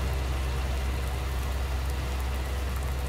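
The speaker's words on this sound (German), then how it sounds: "Also der Regen wird das Stroh jetzt schön entfernen." Rain in the farming game Farming Simulator 19 pours as a constant, even hiss over a low rumbling bed, uniform and unbroken, with no voices.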